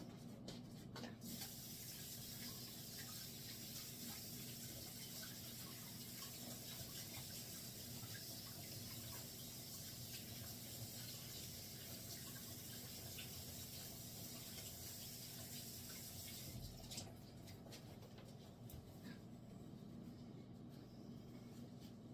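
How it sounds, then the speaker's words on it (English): A kitchen tap runs steadily at the sink for hands being washed between sourdough bread steps, a continuous broadband wash with a low hum underneath, the flow briefly louder and shifting near the end. "Okay, so I gotta wash my hands."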